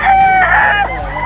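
Stag roosters crow at a busy pet market in Bocaue, a loud close crow with harmonic, drawn-out notes that dips and rises over a steady market hum.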